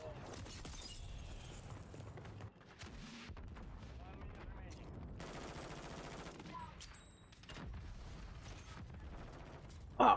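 Rapid bursts of gunfire and sniper shots in a Call of Duty match ring out steadily and loud across the whole stretch, with brief breaks and a sharp final blast.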